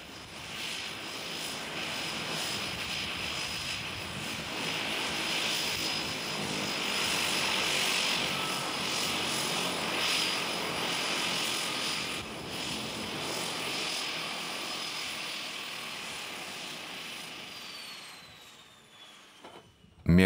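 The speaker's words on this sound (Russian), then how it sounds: "Между Маэ и соседним островом Праслен самолет курсирует 20 раз в день." A small propeller airplane flying the short island hop between Mahé and Praslin in the Seychelles, its steady engine drone filling the cabin for about seventeen seconds before easing off near the end.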